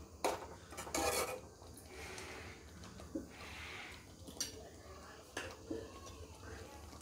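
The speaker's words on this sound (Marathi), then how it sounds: "आता मिक्स करून घेऊया छानपैकी." Paneer masala with kasuri methi being stirred in a pan, heard as faint, close scraping and clinks of a utensil against metal in irregular strokes, with quiet talking in the background.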